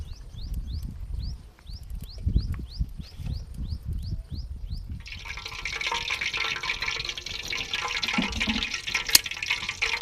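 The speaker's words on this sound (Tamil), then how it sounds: "எண்ணெயை ஊற்றிக்கலாம்." Oil is poured into a pan during outdoor village cooking, a steady rushing pour that takes over midway after a stretch of repeated bird chirps and low background rumble.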